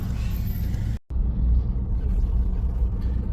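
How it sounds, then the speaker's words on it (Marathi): Road traffic crawls through a jam in Panvel, heard as a steady low engine rumble and road drone. The sound cuts out briefly for an instant near the start, then the dense rumble continues. "तुम्हाला दाखवतो मी किती ट्रॅफिक आहे, किती गर्दी आहे बाहेर गाड्यांची."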